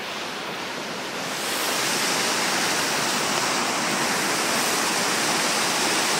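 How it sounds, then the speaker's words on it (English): Spring water gushes out from under a rocky mountain at Hole in the Wall, Tumbler Ridge, a loud continuous rushing hiss that swells after the first second and holds steady with no voices. "Spring of water coming out from under the big, big mountain, the rock."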